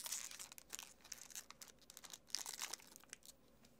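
Plastic packaging around an HP Deskjet 1000 printer ink cartridge being pried open by hand, giving close, faint crinkling and crackling in irregular bursts with short tearing sounds, no talking.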